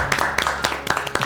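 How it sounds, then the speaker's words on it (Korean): An audience at an education event claps for teachers in a brief, sharp round of applause, a handful of distinct close claps over a low murmur. "박수 한번 드려요"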